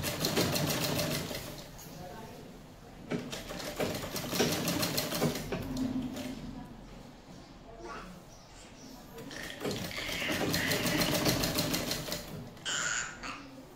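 Sewing machine stitching a katori-style blouse, running in long rattling bursts with short pauses between them, heard under a voice talking.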